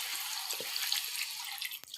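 Water poured into a pot of chicken curry, giving a steady, soft splashing pour with a few faint drips near the end.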